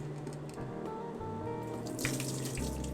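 Pickled daikon and carrots draining through a sieve into a sink, a close, steady trickle of liquid with scattered drips, no voices.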